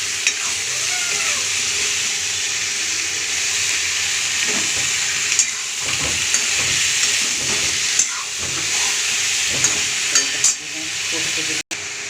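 Boiled greens are sautéed with spices in a hot pan, giving a constant hissing sizzle with intermittent stirring scrapes and light clatter, close by, as a voice talks faintly at times.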